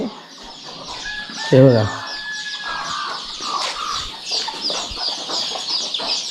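A village hen in a Konkan backyard poultry setup gives a short burst of clucks near the start, close by, while other birds chirp softly in the background and a person speaks briefly.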